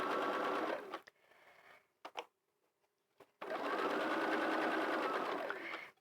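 A sewing machine stitches through a fabric hat with wadding in two loud, steady bursts, broken by a quiet pause with a few soft handling clicks.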